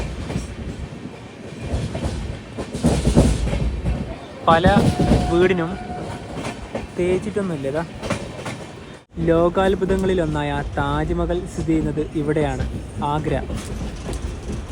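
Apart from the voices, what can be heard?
Himsagar Express train running into Agra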